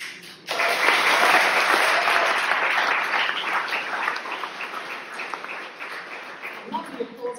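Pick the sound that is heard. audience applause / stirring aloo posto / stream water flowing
audience applause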